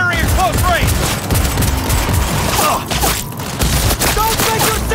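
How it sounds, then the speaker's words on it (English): Close-range automatic gunfire in the video game Cyberpunk 2077, a loud, continuous rattling fusillade of rapid shots with booming impacts, nearly unbroken for the whole stretch, with game voices mixed in. "Firing at close range!"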